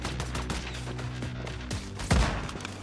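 Gunfire from a shooter game, Once Human, with scattered shots over a low rumble and a louder, heavier burst near the end.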